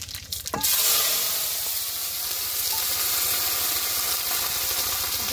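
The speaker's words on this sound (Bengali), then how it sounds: "তেলটা গরম হয়ে গেছে, এবার দিয়ে দিব তেজপাতা," Bay leaf, dried red chilli, nigella and cumin seeds hit hot oil in a Bengali home kitchen, a sharp burst at the start settling into a loud, steady sizzle and crackle that carries on close up with no talk.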